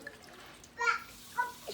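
Water trickles and splashes as it is poured into the channels of a quail fount strainer, two brief faint bursts of pouring in a quiet room with low background hum.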